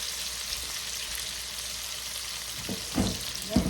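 Granny Smith apples frying with sugar and vanilla in a pan, giving a steady soft sizzle with a few louder clinks or stirs near the end.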